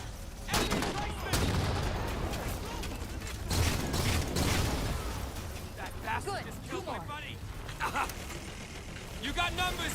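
Gunfire in Halo 4, sci-fi weapon bursts and blasts with mechanical clatter and electronic chirps, moderately loud under frequent in-game voices and a player talking.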